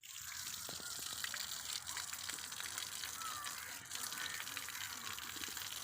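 Running tap water pours steadily while dishes are washed, with a continuous hiss of flowing water and occasional faint clinks. The sound stays close and moderately quiet throughout.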